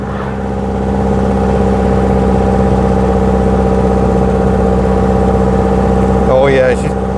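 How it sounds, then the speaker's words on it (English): A small 1930s Lancia Aprilia engine labours up a steep hill, a steady mid-pitched drone with an even, sustained tone, heard from inside the car with a voice briefly cutting in near the end. "the little engine working hard up this very, very big hill"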